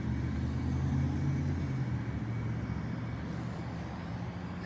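A car rumbles past on a road, a steady low engine and tyre drone that holds throughout and fades slightly toward the end, no talking.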